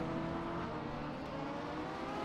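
A GTE race car engine in a six-hour endurance sim race at Dubai drones steadily and fairly quietly, a continuous buzzing hum with no talk over it.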